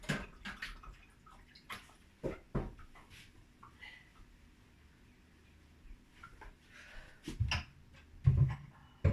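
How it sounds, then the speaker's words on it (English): Hands are washed in a basin of water, soft intermittent splashes and sloshing with brief drips and knocks, close but fairly quiet, with gaps of near silence between bursts. "I'm just going to wash the hands again in that basin that I had soaking."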